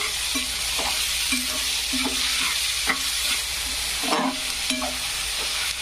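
Onions frying with salt in a pan for a simple vegetable dish, a loud constant sizzle and hiss with spaced scrapes and taps of a spatula, close by and without voices.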